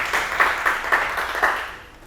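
A live audience at a sales masterclass event claps in a short round of applause, with several quick, evenly spaced bursts of hand claps that fade out toward the end.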